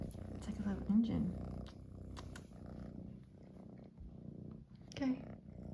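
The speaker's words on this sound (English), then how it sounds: "You have a loud purr. It's like a little engine." A pet cat purrs loudly and steadily, like a little engine, close to the microphone for several seconds, with someone talking gently over it throughout.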